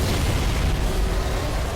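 A Scarab reactor explodes in the video game Halo 3, a continuous loud, rumbling blast that fills the whole moment with broad roaring noise and no pause.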